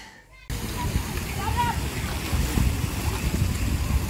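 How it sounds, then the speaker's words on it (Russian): Children splash in a park fountain, a continuous close sloshing and spattering of water that swells in loudness, with faint voices in the background. "Мы тут в фонтане плескаемся."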